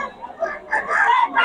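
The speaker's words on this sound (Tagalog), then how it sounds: "Solid yung mga manok ni Boss Eric oh." Gamefowl roosters crow while chickens cluck nearby. The calls come in short, uneven bursts that grow louder toward the end, with someone talking over them.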